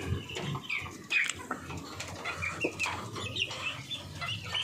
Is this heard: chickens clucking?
yes